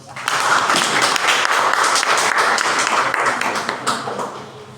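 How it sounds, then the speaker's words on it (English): A university class gives a visiting guest a dense round of applause, loud and steady for several seconds before tapering off near the end. "give him a round of applause"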